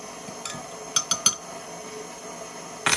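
A KitchenAid Pro 500 bowl-lift stand mixer's 5-quart bowl is raised and locked in, heard as a few sharp metallic clanks and clinks in quick succession, then a final clatter against a quiet room.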